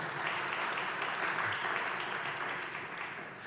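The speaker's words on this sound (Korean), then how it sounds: "박수 한번 쳐주세요." A church congregation claps together for a member who has just become a grandmother, a dense, even wash of applause held at a steady level throughout.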